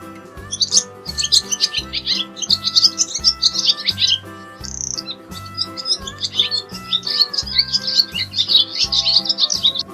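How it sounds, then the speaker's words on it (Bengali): Birds in a tree chirp and tweet in quick, busy bursts, fairly close and steady throughout, layered over a soft rhythmic musical backing. "ঘুঘু পাখি ডাকছে গাছে"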